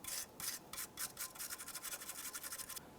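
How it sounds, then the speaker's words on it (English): Hand sanding scrapes rhythmically across the metal ignition coil mounting bracket of a 2002-2005 Ford Explorer, in quick close back-and-forth strokes that stop just before the end. "Once you have it sanded down"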